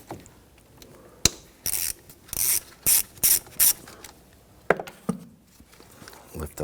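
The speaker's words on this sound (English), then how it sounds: "Use your 10mm socket." A 10mm socket on a ratchet loosens a battery terminal nut on a 2011-2015 Kia Sorento, giving several quick bursts of close, crisp clicking with brief pauses and light handling noise between them.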